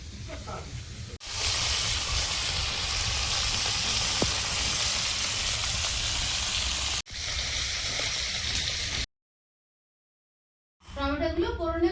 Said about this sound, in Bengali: টমেটোগুলো ফোড়নে করে নেবো চিংড়ি মাছের জন্য।